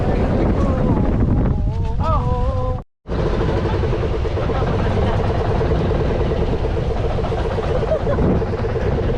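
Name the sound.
strong sea waves and wind on a fishing boat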